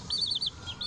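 A baby chick peeps in quick, high, rising chirps close by, giving a short series of cheeps with brief gaps between them.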